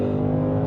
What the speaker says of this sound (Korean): 터널을 탈출하면서 다시 가속 페달 쭉.